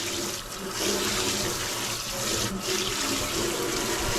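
Fresh tap water runs steadily into a kitchen sink for a final rinse of cleaned razor clams, a continuous close splashing hiss with no speech.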